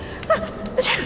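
A single quick sneeze in the video game Dishonored, close and fairly loud, with a short breathy catch before it and no talking.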